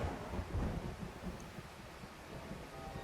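A low, rolling rumble of thunder opens over a steady hiss of falling rain in the horror visual novel Graces: Posthumous Wish, the storm fading to a soft continuous downpour with no voices.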